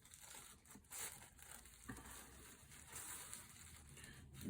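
Plastic sheeting crinkles and crumples softly and close by as it is wrapped around a piece of clay, with a few sharper rustles among quiet, steady handling.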